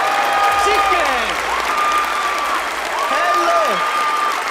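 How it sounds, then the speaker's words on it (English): Audience applause at a magic show on a televised stage, a dense steady wash of clapping from a crowd that runs the whole time, with a voice and some whistle-like tones riding over it. "Big round of applause for Dark Angel."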